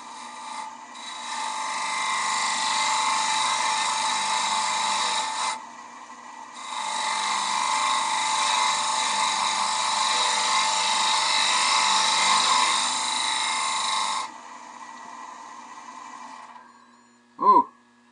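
A gouge cuts a wooden bowl spinning on a wood lathe, giving a steady rasping hiss in two long passes separated by a short pause, followed by a brief voice at the end.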